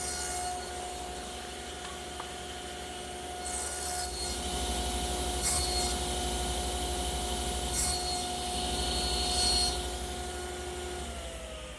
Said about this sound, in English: Now I'll lower the blade and make the shoulder cut on the other side.